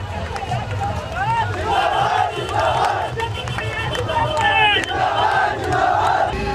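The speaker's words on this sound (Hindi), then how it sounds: "भीड़ लगी हुई है पूरी की पूरी।" Bhim Army protesters gather in a large crowd in Gwalior over a statue dispute. Shouting swells in repeated waves over a continuous babble of many voices, with low rumbling underneath.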